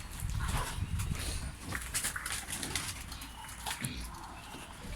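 Pigeons inside a coop, soft cooing and fluttering close by amid scuffling and rustling, with no talk.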